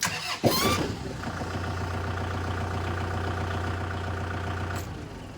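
A Kubota M6040SU tractor engine starts up in neutral with a short cranking burst, then settles into a steady, close, fairly loud idle, no voices present.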